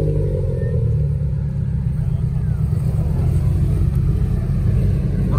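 At an outdoor car meet, a Subaru BRZ idles with a loud, close, continuous low engine rumble, and people talk over it.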